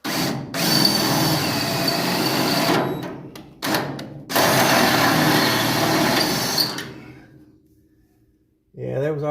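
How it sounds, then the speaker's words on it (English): A handheld power drill bores a hole in the rear rail of a 1966 Ford Mustang fastback, whining loudly in two long sustained runs with a short pause between, then spinning down to quiet before a brief restart. "Alright, let's try to drill our hole."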